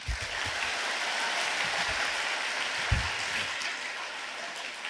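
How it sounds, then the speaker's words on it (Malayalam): A crowd at a school merit day in Kunnamkulam applauds the teachers, giving steady sustained clapping throughout, loud and dense, with no talking. "കയ്യടിക്കട്ടെ"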